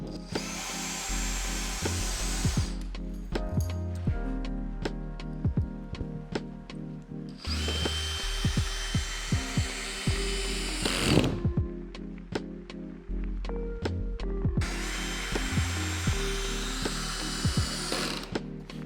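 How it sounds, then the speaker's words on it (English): A power drill whirs in three long bursts, pre-drilling holes in wood, separated by pauses filled with clicks, knocks and handling sounds close by. "Okay, pre-drilling, starting."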